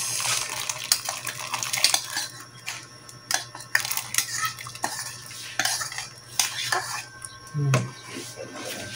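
Spoon scraping and clinking against a cooking pot as corn is stirred for bilo-bilo, irregular close-up knocks and swishes with some watery sloshing, and a voice briefly in the background.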